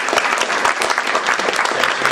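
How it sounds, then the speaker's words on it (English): Sustained audience applause at a pitch event, a dense, steady crackle of many hands clapping close by, loud and even across the whole stretch with no talk over it. "A big round of applause for"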